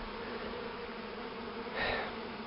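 Honey bees buzz around a small hive in an apiary, a steady low droning hum with a closer bee passing briefly near the end, no voices.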